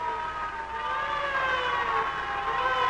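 A fire engine siren wails in an animated children's story, a continuous wavering tone held at moderate loudness throughout.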